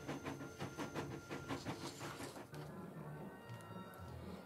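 A chugging steam-train sound effect in a children's storybook read-along, with a steady rhythmic puffing beat for the first half before easing into a softer rumbling hiss.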